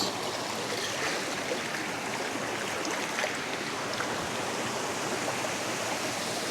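A river flows steadily beside an outdoor bush cooking spot in Jamaica, a continuous rushing wash of water that stays even throughout with no voices.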